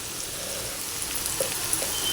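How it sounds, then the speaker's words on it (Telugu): Meal maker soya chunks fry in a pan, making a steady, even sizzle with faint crackles and a few small pops throughout. "తీసేసిన మిల్ మేకర్ వేసేసి దీన్ని కూడా వేయించుకోవాలి కొద్దిసేపు."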